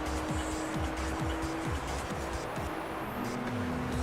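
RSC race car engine in the Gran Turismo 3 video game revs hard through rapid repeated gear shifts, rising and dropping in pitch over a loud continuous drive with tire noise.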